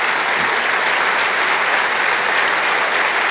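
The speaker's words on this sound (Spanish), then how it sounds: "Dale un aplauso a Jesús." A large audience at a men's church convention applauds loudly and steadily, a dense wash of clapping that fills the whole stretch with no voices standing out.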